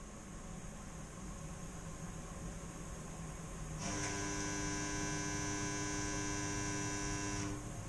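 A pellet stove's jammed auger motor, not turning and dropping no pellets, sits under a low steady hum, then partway through a loud, steady electric buzz kicks in and drones on without change until near the end.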